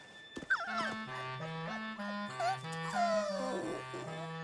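Cartoon dogs whimpering and whining in high, wavering tones, with short yips over a steady melodic music backing throughout, from the Strawberry Shortcake animated series.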